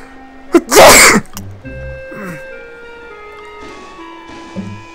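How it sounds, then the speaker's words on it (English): A single loud, close sneeze bursts out suddenly, followed by quiet game music and faint background sounds. "I had a sneeze."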